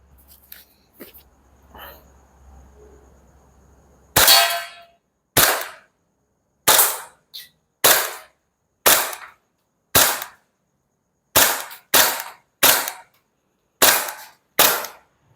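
An Umarex/KSC HK USP .45 Match airsoft gas pistol fires at a 10-metre range: about ten sharp, loud cracks spaced roughly a second apart, each one alone and clean after some faint handling noise.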